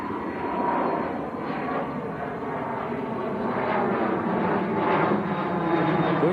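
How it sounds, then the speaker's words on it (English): A NetJets Cessna Citation business jet takes off at Manchester Airport, a steady, fairly distant broadband engine roar that holds throughout with slight swells in level, no talk over it. "BizJet just taking off. That was the NetJet citation."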